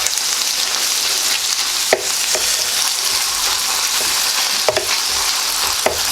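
Chicken fried rice stirred in a hot pan: a loud, steady sizzle broken by several sharp scrapes and clacks of a utensil against the pan.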